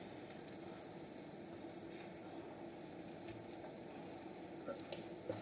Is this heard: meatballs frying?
yes